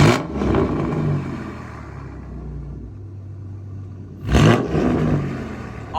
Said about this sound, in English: Now give me a couple revs.